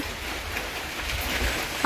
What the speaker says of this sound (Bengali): এই যে দেখতে পাচ্ছ বৃষ্টি হচ্ছে